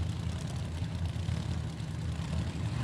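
Drag racing cars idle at the start line at a dragstrip during funny car qualifying, giving a steady, deep engine rumble with no breaks over a short stretch.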